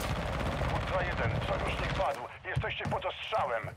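Sniper and other gunfire sound out in the Call of Duty: Modern Warfare II DMZ mode. Sharp shots and bursts mix with in-game radio chatter and players talking over them.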